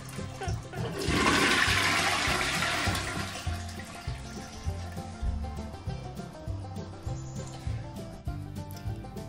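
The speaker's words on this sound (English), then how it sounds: "Big flush for a big job." Big flush of a small wall-hung toilet in a shed converted into a tiny house: a loud close rush of water surges for about three seconds, then settles into gurgling refill trickles.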